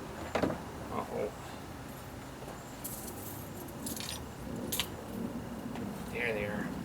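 Keys jangling in short metallic bursts while being hunted for beside a Polaris Slingshot, faint against steady background noise, with speech in the background.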